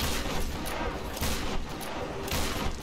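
Gunfire in the video game Tomb Raider Game of the Year Edition, with a few dense, rapid bursts of shots that stay loud and fairly close across the whole stretch.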